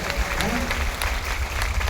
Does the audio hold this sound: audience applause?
yes